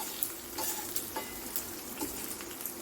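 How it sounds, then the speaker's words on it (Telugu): Cumin, urad dal and coriander seeds frying in hot oil, a soft steady sizzle with light crackles and occasional stirring scrapes, fairly quiet and close. "మినపప్పు ధనియాలు చక్కగా వేగినట్టుగా మనకి స్మెల్ వస్తుంది"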